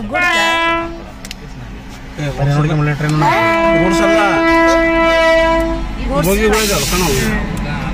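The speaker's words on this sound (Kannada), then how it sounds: "ಟ್ರೈನ್ ಬಂತ" A train horn blares loud and close in long sustained blasts over the rumble of a train arriving from Jaipur at Yeshwantpur, Bengaluru, with people talking nearby.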